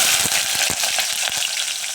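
Green chilies and onions sizzle steadily in hot tempering oil, a dense crackling hiss with a few soft stirring clicks, close by and with no talking.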